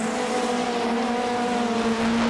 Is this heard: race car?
yes